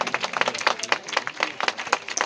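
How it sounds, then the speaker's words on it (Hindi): An audience clapping at a Maratha community honours ceremony in Dhamtari, with loud, close, crisp claps in a steady, slightly irregular patter and no voices. "फिर से एक बार जोरदार तालियां।"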